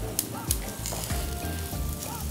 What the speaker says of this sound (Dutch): Olie erin en dan gaan we de burgers bakken.